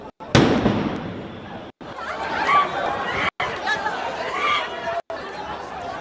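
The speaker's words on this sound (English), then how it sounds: "Blasts amongst the mourners." A sudden loud blast among mourners at a funeral in Lebanon, one sharp bang near the start followed by a confused crowd murmur and chatter with brief abrupt cutoffs.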